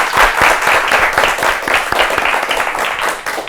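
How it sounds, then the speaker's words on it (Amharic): Audience clapping for a contestant at a children's quiz competition, a dense, steady burst of applause from a studio crowd that carries on evenly for several seconds. "አጨብጭቡ ለኬቲም በደንብ አድርጋችሁ"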